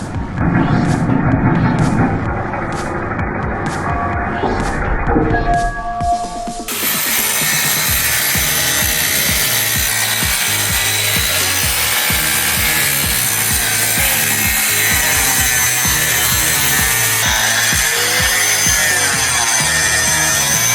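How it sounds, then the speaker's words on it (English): A Sawzall reciprocating saw cuts through a factory motor mount on a Land Rover Defender 110, starting with a brief steady whine, then settling into a loud, continuous rasping saw stroke that runs close and unbroken without any talking. "We got our expert Sawzall technician here getting the second mount off. Look at that reciprocating action"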